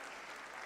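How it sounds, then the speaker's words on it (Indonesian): Audience applause after a business presentation, a steady, dense wash of clapping that is faint and far off throughout, with no voices over it. "Boleh kita berikan tepuk tangan sekali lagi dong Bapak Ibu sekalian"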